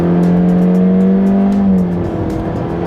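A car's CVT engine revs hard at full throttle, simulating automatic gear shifts: a loud, steady engine drone holds a rising pitch, then drops sharply as a simulated shift point arrives, with road and wind noise throughout.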